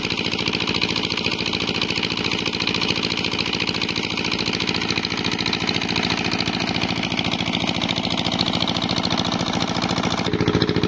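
A boat engine chugs steadily and loudly throughout, a constant rapid throbbing close by with no pauses.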